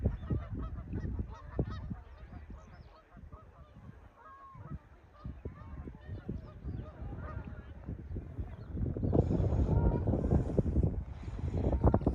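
Seabirds calling along the white chalk cliffs of the Seven Sisters on the English Channel coast, repeated honking and squawking calls at moderate distance over gusty wind, growing louder and denser toward the end.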